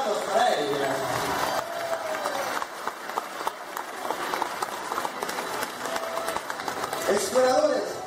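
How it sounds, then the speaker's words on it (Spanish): Audience applause for an act at an aquarium show in Mazatlán, Mexico, a steady wash of clapping that runs the whole time beneath music and a voice. "Pero que no paren las palmas para ella."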